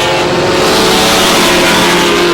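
A field of eight race cars in a qualifier roars under the green flag, engines loud, dense and continuous as they accelerate together, with no pause in the din.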